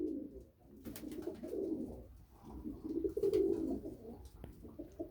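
Pigeons, including white and Arab breeds, coo softly and continuously at close range in a low, rolling murmur that swells and fades, with no speech over it.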